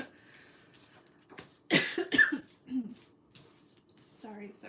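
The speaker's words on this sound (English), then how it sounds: "I am right here in the speaker coughing at you guys." Two sharp, close coughs burst out in quick succession, followed by a softer throat sound and some quiet muffled noise.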